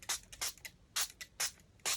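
Short hissing bursts from a spray bottle onto copy paper, about six quick squirts in an uneven rhythm, close and fairly quiet.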